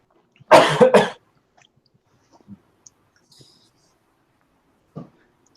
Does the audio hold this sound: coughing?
yes